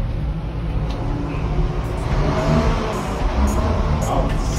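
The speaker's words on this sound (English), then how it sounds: "Truck that is coming down the hill." A truck descends a steep hill in Medellín, its engine a low, steady rumble with rising revs, heard close amid general street traffic.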